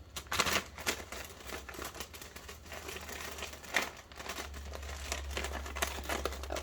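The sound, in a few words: crinkling packaging of wax melts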